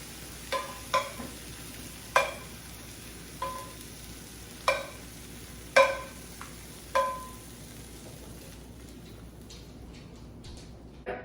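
Meatballs frying in a pan, a quiet continuous sizzle broken by about seven sharp ticks or pops at uneven intervals, fading toward the end.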